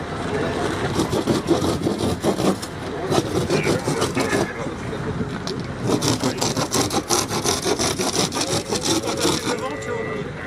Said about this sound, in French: Donc la scie manuelle s'y prête tout à fait.